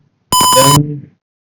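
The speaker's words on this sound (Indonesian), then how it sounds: "alarm akan berbunyi terus sampai 10 detik" An alarm coded for a class programming assignment sounds one loud, harmonically rich electronic tone lasting about half a second, then a softer falling tail, alone against silence.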